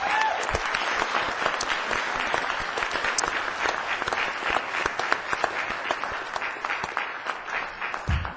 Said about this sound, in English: A round of applause for these individuals.